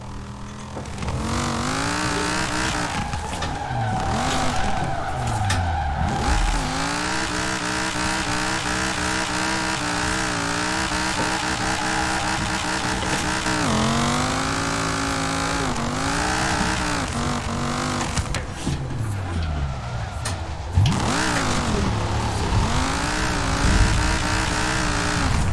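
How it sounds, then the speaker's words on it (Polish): A drift car in Forza Horizon 4 roars with loud revving engine sweeps rising and falling, mixed with sustained tire squeal and skidding, continuous and close throughout. "To będzie najlepszy, najlepiej brzmiący samochód i driftowy, jaki mam chyba."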